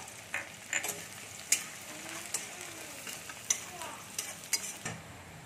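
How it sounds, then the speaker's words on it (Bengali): Chopped onions fry in oil with whole cumin seeds, making a soft, low sizzle with several sharp clinks and scrapes from a stirring utensil against the pan. "পেঁয়াজগুলো একটু লাল লাল করে আমি ভাজতে দেবো।"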